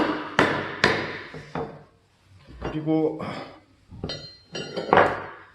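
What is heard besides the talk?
hammer striking a holdfast clamp, metallic clang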